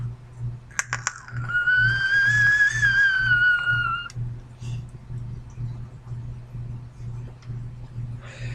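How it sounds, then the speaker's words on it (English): A vape mod with only two small airflow holes: a thin, high whistle lasts about three seconds as air is drawn through, preceded by a couple of clicks, with a low rhythmic hum underneath. "Because there's only 2 little holes, you get the whistle effect."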